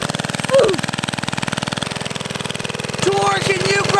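A small mini bike engine idles close by with a rapid, even chugging putter, loud and continuous, while a voice and brief squeaky sounds break through over it.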